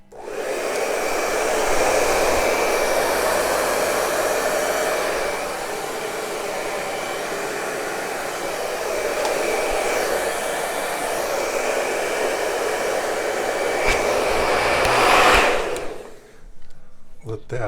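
A hair dryer blows steadily over a fresh acrylic fluid paint pour, a loud, continuous close-up whoosh lasting about fifteen seconds before switching off abruptly near the end.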